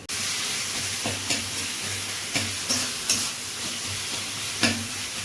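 Tomatoes and salt sizzle in a pan with onions already fried brown, a steady frying hiss broken by a few sharp stirring scrapes, close and continuous with no one talking.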